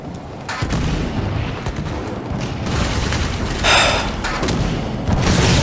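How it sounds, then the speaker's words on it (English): A Scorpion tank firing in the video game Halo 5: Guardians gives heavy booming blasts over a dense bed of gunfire and explosions, with a sharp loud burst near the middle, all steady and loud with no voices. "See, that's a Scorpion tank."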